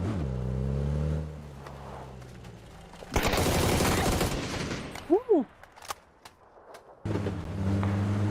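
Rapid bursts of gunfire in a video game crackle in the middle, framed by a revving engine drone and a few sharp isolated shots.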